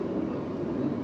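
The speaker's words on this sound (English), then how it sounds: "That airplane's pretty loud." Loud airplane passing overhead as an e-bike rides after a hurricane, a steady broadband roar that fills the short moment with no voices.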